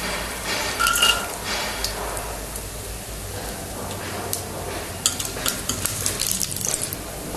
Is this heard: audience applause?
no